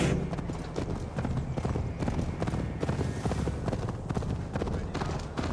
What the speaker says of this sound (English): Ride like Sleipnir's hooves